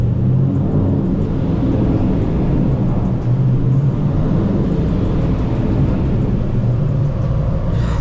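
A widebody Dodge Scat Pack with a mid muffler delete roars under hard acceleration at night, its exhaust a loud, sustained deep rumble heard from inside the car, with a rising drone and no talking.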